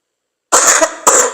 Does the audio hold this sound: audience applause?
no